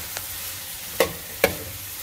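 Steamed vegetables being stir-fried in a pan for fried rice over medium heat: a quiet background hiss broken by three short spatula scrapes or taps against the pan, the last two louder and close together.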